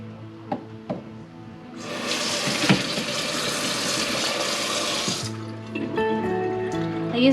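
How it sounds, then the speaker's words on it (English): Tap water runs steadily into a sink over grape berries picked off the cluster for homemade grape juice, a bright rushing stream lasting a few seconds between quieter knocks and handling noises. "I'm just gonna take all these grape berries off of the cluster. We'll rinse them off."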